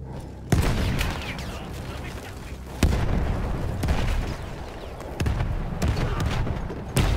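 Gun explosions in the World War I shooter game Battlefield 1, a series of heavy booms and blasts with sharp onsets, each followed by rumbling decay, loud and close.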